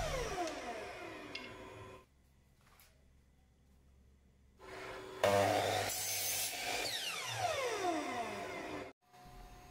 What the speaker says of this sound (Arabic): بعد كده هنبدأ نقص القشاط بزاوية 45 عشان نحزم بيه الرف